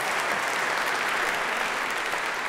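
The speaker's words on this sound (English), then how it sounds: "the applause was also for you" An audience at the International Children's Peace Prize ceremony applauds, a steady, dense wash of clapping from a large crowd filling the hall without a break.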